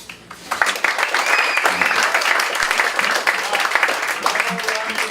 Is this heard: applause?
yes